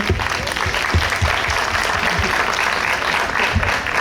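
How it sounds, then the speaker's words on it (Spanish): Audience applause at a book talk in Bolivia, a dense steady wash of clapping with some low thumps and faint voices mixed in, fairly loud throughout. "Un aplauso sí, para ustedes."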